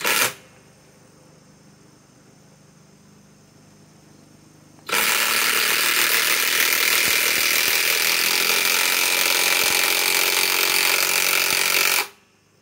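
An impact wrench drives a 6-inch lag screw, powered by a 2.5 stacked battery, in a loud continuous hammering rattle that kicks in after a quieter stretch, runs for about seven seconds and stops abruptly.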